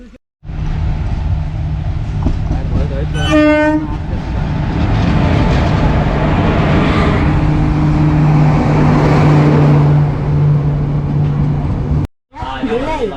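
A local train pulls into Diva station in Mumbai with a steady loud rumble of wheels and carriages, a short blast of the horn early on, and a droning motor tone throughout before a brief lull near the end.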